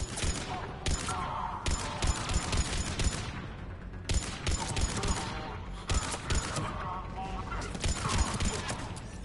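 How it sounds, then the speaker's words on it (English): Battle fire from Mass Effect Legendary Edition, with mortar and weapons fire against Cerberus forces, pounds in repeated loud bursts roughly every couple of seconds over a constant rumbling combat backdrop. "Commander, we're getting a lot of mortar fire."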